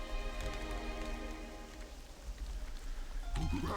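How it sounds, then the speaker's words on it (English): Rain in the video game World of Warcraft Mists of Pandaria, a continuous patter of drops on surfaces beneath a sustained tonal music bed, moderately loud and steady throughout. "Look, rain not stopping at all."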